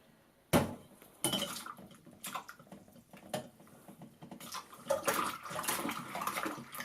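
Water splashes and runs while Kodak positive slide film is washed in a tank, with uneven sloshing bursts, pours and light clinks at close range and no speech.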